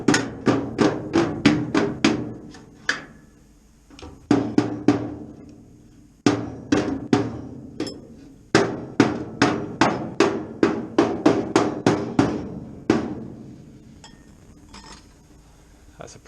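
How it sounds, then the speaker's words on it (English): A rubber mallet taps repeatedly on the inner wing panel of a 1972 Classic Mini during restoration, producing sharp, ringing metallic knocks in quick bursts of several strikes with short pauses between, close and loud. "and then my rubber mallet"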